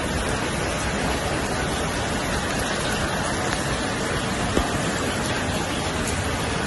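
Heavy rain pours on a rainy morning, a dense, steady, loud hiss with no letup and only a single faint tap near the end, and no voices.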